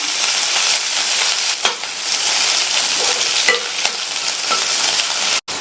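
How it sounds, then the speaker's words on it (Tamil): Mustard seeds, urad dal, chopped medium onion and curry leaves sauté in hot oil, giving a loud, steady sizzle with scraping stirs and a few crackling pops, then a sudden brief dropout near the end. "எண்ணெய் சூடானதும் அதில் அரை டீஸ்பூன் கடுகு ஒரு டீஸ்பூன் உளுந்து கட் பண்ண ஒரு மீடியம் சைஸ் வெங்காயம் கொஞ்சமாக கருவேப்பிலை இலைகள் சேர்த்துட்டு இதை லைட்டாக வதக்கி விட்டுக்கலாம்"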